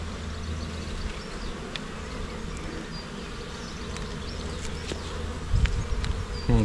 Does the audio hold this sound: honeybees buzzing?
yes